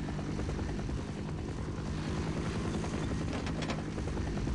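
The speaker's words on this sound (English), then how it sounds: "The sound of that VTOL is just annoying, you know?" A VTOL aircraft's engine drones in Half-Life: Decay, a steady, faint, continuous whirring hum that holds level for the whole stretch with no other sounds standing out.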